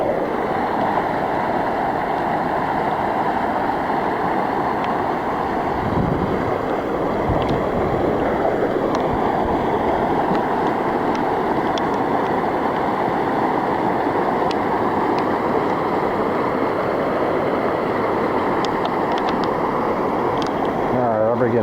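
Powerful floodwater rushes past a pigeon farm in Sodus, Michigan, a loud, unbroken roar of churning water that holds steady throughout, close by.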